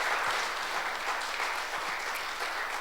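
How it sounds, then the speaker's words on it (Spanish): Congregation applause during a church service, a dense steady wash of clapping heard at moderate distance, continuous for a few seconds with no talk over it. "Dale un fuerte aplauso al Señor."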